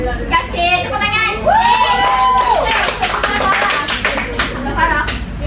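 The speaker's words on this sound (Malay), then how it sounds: "Tepuk tangan." Children clap together in a Malay-language classroom, a short burst of applause mixed with shouting, high whistling and loud young voices.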